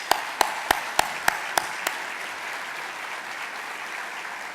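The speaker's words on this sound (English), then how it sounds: "Let's give a round of applause for them." An audience at a State of the City event applauds the Oklahoma City Thunder, opening with several sharp, separate claps before a dense wash of steady clapping that holds evenly to the end.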